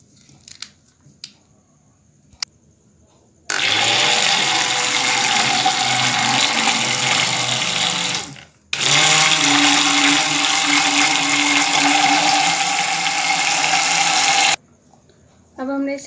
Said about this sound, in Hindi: तो अब मैं हैंड ग्राइंडर से इसको ग्राइंड कर रही हूँ।